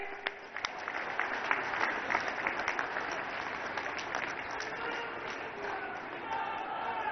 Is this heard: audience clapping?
yes